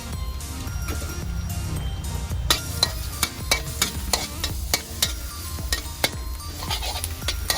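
Garlic frying in hot vegetable oil for a stir-fry of asparagus with shrimp, with a close sizzle and a quick string of sharp spatula scrapes and clicks against the pan.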